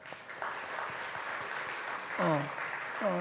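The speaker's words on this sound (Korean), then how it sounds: "결혼 준비하고 한다고 수고했다고 실현형 잘 다녀오라 박수 한번 하겠습니다." A church congregation at a Sunday service applauds in a steady, moderately faint burst of clapping, with voices breaking through near the end.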